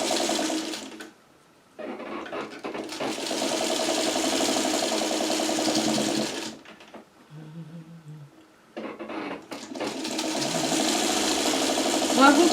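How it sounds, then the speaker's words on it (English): A sewing machine stitches quilt seams on a churn dash block in fast, even bursts, stopping for a pause before starting again, close and clear with no talk over it. "So let's sew that through."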